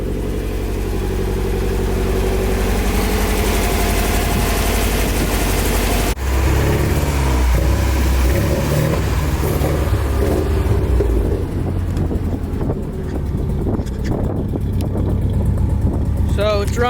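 A Nissan 240SX S13 engine runs at a steady idle close by on its first start-up, a low continuous rumble, with people talking over it.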